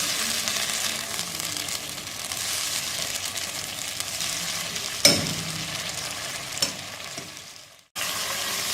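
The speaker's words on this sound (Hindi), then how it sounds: "चिकन हमने इसमें डाल दिया। अब हम 2 मिनट इसको कुक करेंगे।" Chicken pieces sizzle and fry steadily in a pot of hot oil for Pakistani chicken pulao, a dense close hiss with a sharp stir or clatter midway, another soft knock later, and a brief dip near the end.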